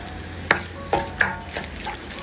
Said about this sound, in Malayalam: 2 മിനിറ്റും കൂടി ഒന്ന് ഇളക്കി കൊടുക്കാം.